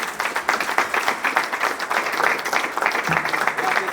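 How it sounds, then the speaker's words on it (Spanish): A church congregation gives dense, steady applause during a Spanish-language worship service, loud and continuous throughout, with a few voices audible within the crowd. "Bien, el aplauso al Señor."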